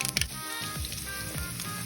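Steady sizzling of chopped garlic frying in hot oil with mustard seeds and cumin, continuous and close, with a few soft squishy pops.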